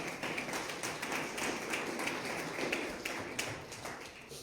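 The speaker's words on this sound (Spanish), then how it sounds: "Dale una ofrenda de palmas, Señor, con todo el corazón." A church congregation claps steadily as an offering of praise, a dense, continuous patter of many hands at moderate distance with no talk over it.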